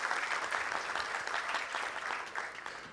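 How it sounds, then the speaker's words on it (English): Conference audience at an open-source VoIP event claps for a sponsor, a soft, fairly distant stretch of applause that stays even throughout and thins slightly near the end. "Give him a round of applause for making the conference possible."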